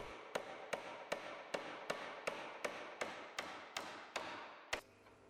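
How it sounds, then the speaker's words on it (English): Galvanized roundhead nails are hammered into timber floor joists at the wall plates, about a dozen sharp, evenly spaced blows in a steady rhythm, ending with one final strike and then quiet. "Secure the timber joists at both ends of the floor to the wall plates with galvanized roundhead nails."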